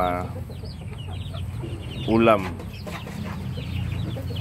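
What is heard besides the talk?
chickens clucking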